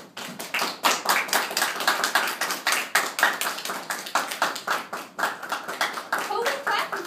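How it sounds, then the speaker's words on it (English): A church congregation claps in a steady, rhythmic beat, sharp hand claps repeating a couple of times per second and fairly close, with voices faintly mixed in underneath. "Who we clapping for?"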